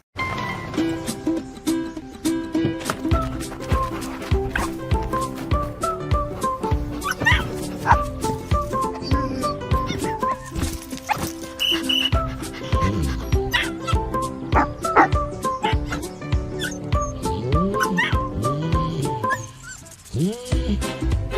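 Dogs in a commercial for the three-row Subaru Ascent bark, yip and whimper in a busy overlapping stream, close and loud over music throughout, with a voice speaking near the end.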